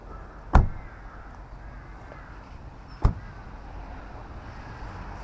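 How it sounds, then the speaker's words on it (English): Two sharp thunks from Honda Civic car doors, spaced a few seconds apart, each short and close over quiet background. "when we open the doors, we open quite widely for you to get in"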